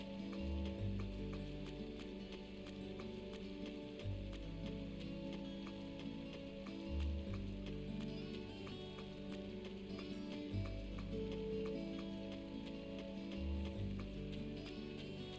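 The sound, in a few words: rain downpour in video game Trails of Cold Steel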